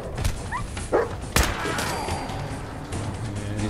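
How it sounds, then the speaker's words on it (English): Dogmeat the dog in the video game Fallout 4 gives a couple of short yips and barks amid game effects and a sudden crash, fairly faint under the surrounding noise. "Stupid dog!"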